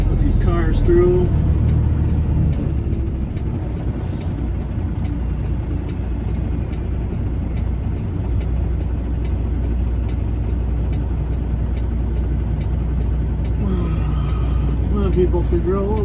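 Cars pass on a road beside a stopped vehicle with hazard and strobe lights on, a continuous close engine rumble with passing swells, and people talk over it throughout.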